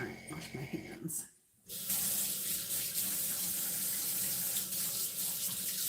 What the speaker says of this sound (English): Alright, wash my hands.